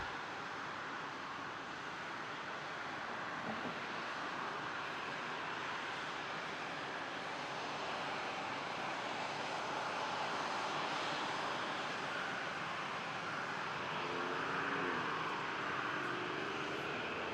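A Boeing 777-200 airliner in a special oneworld livery takes off at Toronto, its engines a faint, distant, even rumble that builds slightly toward the end.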